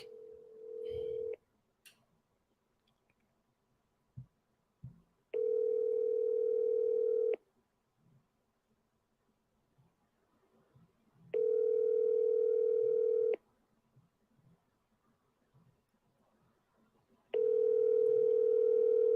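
After a number is dialed, a telephone dial tone sounds in three long, steady bursts of about two seconds each, separated by silent gaps, with faint clicks and brief noises in between.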